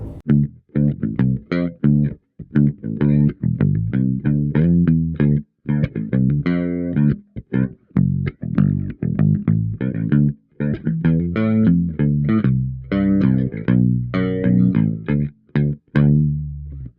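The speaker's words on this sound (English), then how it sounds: "when we clicked on some chorus" Castedosa Conchers bass guitar notes played through the bridge pickup in a steady riff with a shimmering, slightly wavering chorus tone, close and clear, no voices.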